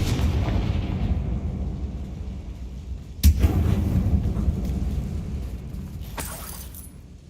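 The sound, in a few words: Confringo spell explosion from a video game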